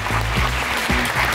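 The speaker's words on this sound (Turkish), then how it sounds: "Alkışlarınızla." Studio audience applause greeting cooking competition contestants on a Turkish talk show, a short steady burst of clapping with low voices mixed underneath.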